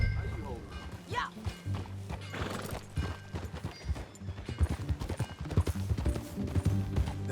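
Horse hooves clip-clop in a rhythmic trot in the video game Red Dead Redemption 2, close and fairly loud, mixed with game sounds and a voice speaking over them.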